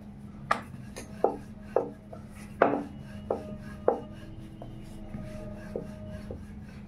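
Square paratha dough being rolled thin with a rolling pin on a floured board: a string of about seven sharp wooden knocks at uneven intervals, fairly close, over a steady low hum.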